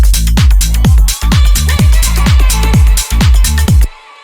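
Textured synth effects in a minimal tech house groove, loud and up front: punchy repeating kick-like hits with decaying tails, bright noisy ear-candy layers above, stopping abruptly near the end.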